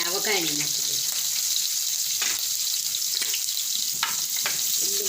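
Green garlic, ginger, chillies and tempering spices dropped into a hot pan for a stuffed chibhada curry, giving a steady broadband frying sizzle with a few brief clattering stirs, close and fairly loud throughout.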